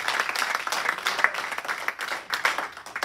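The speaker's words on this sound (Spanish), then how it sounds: "Alguien le regala un aplauso al Dios Todopoderoso." A church congregation claps during a Spanish-language worship service, a dense burst of applause lasting about three seconds that swells and dips but never stops, fairly close and with no one speaking over it.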